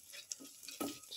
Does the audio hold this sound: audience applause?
no